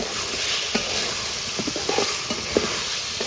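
Pointed gourd sizzling steadily as it is stir-fried with spices in a pan for a tilapia curry, with soft scattered clicks of a spatula scraping the pan over the continuous hiss.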